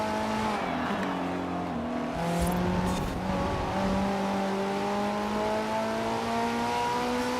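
A Maserati Gran Turismo S in Forza Horizon 4 corners hard, its engine holding a loud, steady note that climbs in pitch, with a faint tire squeal running underneath.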